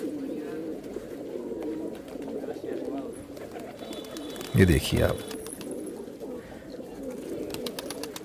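Rajasthani pigeons, a female kalmuhi among them, give a short burst of cooing near the middle, heard over steady background chatter and bird noise, with someone speaking briefly.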